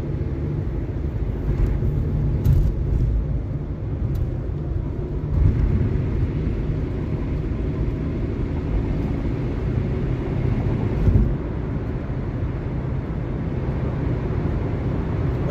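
Steady low road and engine rumble from a car cruising at about 65 mph along an empty highway late at night, continuous and even throughout with a few slight swells, no talking.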